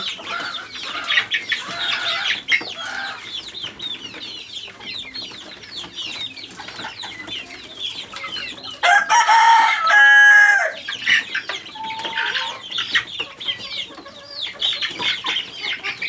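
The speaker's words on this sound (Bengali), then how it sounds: "এখানে খোয়ার আমার কিছু মুরগি, ওরা ডাকাডাকি করতেছে।" Hens in a coop cluck in a busy, overlapping chatter. A rooster lets out one loud crow partway through before the clucking carries on.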